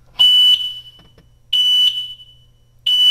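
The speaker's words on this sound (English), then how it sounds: "I'm going to throw it in reverse, you're going to hear a beep." A vehicle's reverse warning sounds a loud electronic beep three times at a steady, slow interval, each tone sharp and high-pitched with quiet gaps between.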